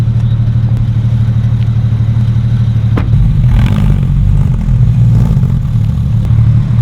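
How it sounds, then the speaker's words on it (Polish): A Porsche 911 GT3 (992) engine rumbles loudly up close, idling with a deep throb before revving and pulling away with a rising, raspy growl. "ja wsiadam do auta i zrobię kółko i zobaczymy jak to będzie gadać"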